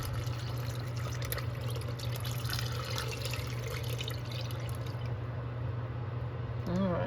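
Broth and spices poured gradually into a pot of copycat Texas Roadhouse chili, a steady splashing, trickling flow close by that runs the whole time, ending with a brief clunk.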